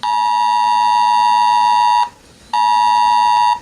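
A New Zealand emergency alert alarm blares loud and steady with a piercing multi-tone beep, cutting out for about half a second before resuming at full volume, with no voices.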